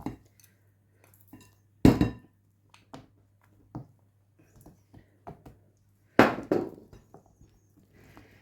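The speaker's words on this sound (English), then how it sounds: "I'm going to stir it through, let the heat go through the chocolate" A spoon works through white chocolate in a pot of nougat mixture, making sparse metallic clinks and knocks against the pot, two of them louder, separated by near silence.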